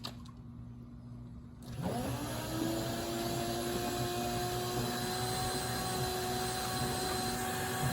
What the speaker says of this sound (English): So let me start the vacuum for this